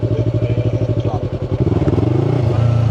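Yamaha R3 motorcycle engine pulsing at low revs from close by, then rising into a smoother, higher rev as the throttle opens. The throb is steady and loud, with no voices.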